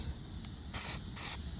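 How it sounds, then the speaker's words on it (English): A Rust-Oleum spray paint can hisses in two sharp bursts, each about a quarter second, fairly close against a quiet background. "I'll paint my whole car with Rust-Oleum turbo cans."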